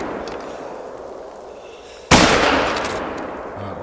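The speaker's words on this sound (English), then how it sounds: "Alright, well the first shot definitely hit that." A single loud rifle report fired at a wild boar in the hunting game theHunter: Call of the Wild cracks out sharply partway through, its echoing tail fading over quiet outdoor ambience.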